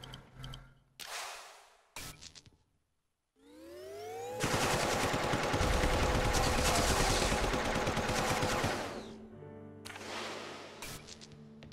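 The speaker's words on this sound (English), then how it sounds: "I presume that's supposed to be some sort of mining gun" Mining gun in The Turing Test firing a sustained rapid burst of clattering shots that rings out loudly for several seconds, framed by rising whirring tones and shorter mechanical sounds before and after.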